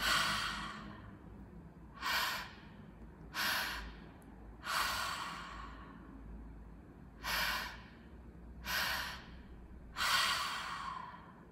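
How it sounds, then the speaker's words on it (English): Deliberate breathwork through the mouth, with about seven strong, close exhales or sighs arriving in a regular rhythm, separated by quieter inhales. "let's start by breathing all through the mouth into the low belly, high chest, exhale to release"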